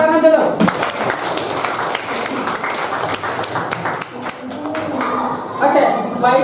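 Hands clap in a classroom learning session, a dense sustained burst of many claps from a group, loud and close throughout with voices mixed in beneath.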